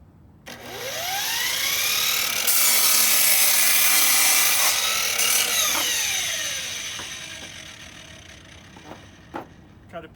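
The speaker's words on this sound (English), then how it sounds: "Now just get your saw." A hand saw cuts through a piece of tree limb in long, loud rasping strokes that swell and then fade. A few light knocks of handling follow near the end.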